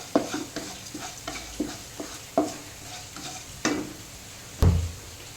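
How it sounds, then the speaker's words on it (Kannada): Cumin seeds frying on a low flame in a pan, heard as a steady faint sizzle broken by regular spoon scrapes and stirring knocks, with a louder clatter near the end. "ಇವಾಗ ಇದನ್ನು ಲೋ ಫ್ಲೇಮಲ್ಲಿ ಫ್ರೈ ಮಾಡ್ತೇನೆ"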